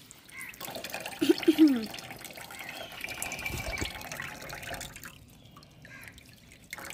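Tap water runs and trickles while hands are washed at a hostel, a soft uneven splashing with a brief voice heard early on.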